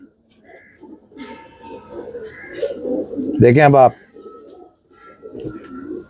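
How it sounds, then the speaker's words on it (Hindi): Domestic pigeons coo in low, throaty bursts, one louder warbling call standing out midway, while someone speaks briefly nearby. "ये होती है कबूतर की जात और शिफात"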